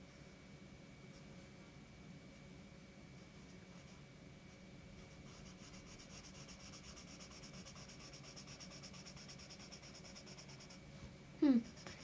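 A marker scratches and rubs steadily across paper for the whole stretch, a soft continuous rasp that gets slightly busier toward the end, capped by a brief louder squeak.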